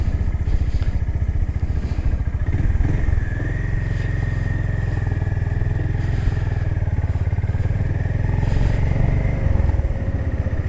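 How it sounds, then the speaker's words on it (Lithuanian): A 2025 Honda GB350S motorcycle idles steadily up close, its single-cylinder engine giving a smooth, even low thrum that lifts slightly in a brief rev partway through, with no talk. "Labai švelniai veikia variklis,"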